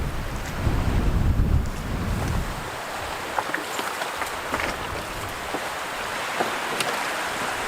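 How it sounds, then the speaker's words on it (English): Strong wind blowing across an open lake beneath high cliffs, gusting and buffeting loudly at first, then settling into a steady rushing hiss with scattered sharp crackles. "The wind is just too strong."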